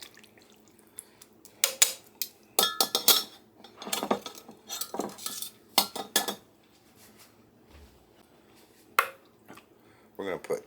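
Honey garlic chicken being stirred in a pot, several bursts of metal utensil scraping and clinking against the pot with pauses between them, close and fairly loud.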